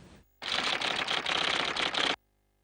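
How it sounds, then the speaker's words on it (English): Typewriter keys clatter in a dense, rapid burst for about two seconds, an office full of machines hammering away at close range, then cut off abruptly into silence. "The clatter of typewriters in the Bendlerstrasse came to a halt"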